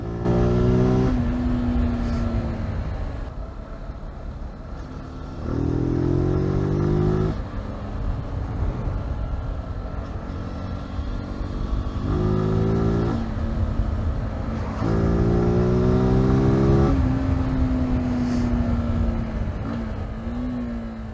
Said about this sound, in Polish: Mam nadzieję, że będzie słychać ten dźwięk z airboxa